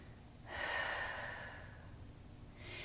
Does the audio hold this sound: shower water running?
no